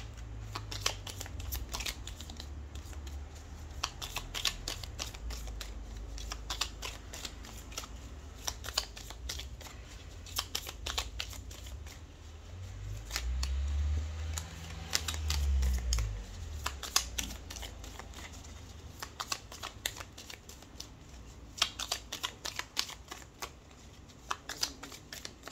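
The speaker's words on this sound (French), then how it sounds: "On va prendre une dernière carte avec le petit oracle des anges." Angel oracle cards being shuffled by hand, a long stretch of soft, rapid riffling and flicking of card stock, close and steady with brief pauses and a faint low rumble beneath.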